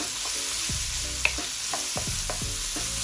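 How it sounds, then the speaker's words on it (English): Onion sizzling in melted butter in a pan, a constant bright hiss with intermittent stirring scrapes and a single sharp tap, close and steady throughout. "So adding some butter. The first thing I'm gonna add is some onion."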